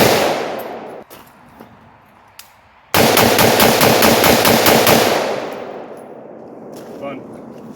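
Rapid burst of close-range gunfire from an S&W M&P 15 AR-15 rifle emptying a magazine, loud dense shots running for about two seconds after sparse quieter sounds, then fading into echo and ambient noise.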